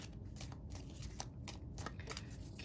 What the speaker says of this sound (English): I'm just going to divide this deck into 3 because it's a really fat deck